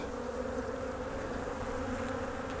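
Honeybees buzzing from an open hive during a spring brood box rotation, a continuous steady hum of many wings up close, moderately quiet and unbroken.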